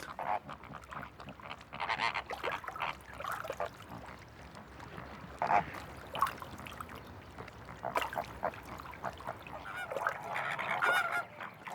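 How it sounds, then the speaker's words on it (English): A flock of flamingos gathered near their breeding grounds in spring honk and call repeatedly in overlapping goose-like bursts, a busy chorus of varied loudness throughout. "the flamingos congregate close to their breeding grounds"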